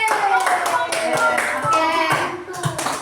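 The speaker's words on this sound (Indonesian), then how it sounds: "Tepuk tangan untuk kita semua." A classroom of students claps together at the close of a science lesson, a dense burst of hand claps with children's voices mixed in throughout.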